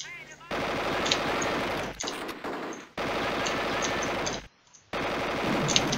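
Rapid machine-gun fire in the Platoon total conversion of Duke Nukem 3D, loud sustained bursts broken by brief pauses, with a voice speaking in between.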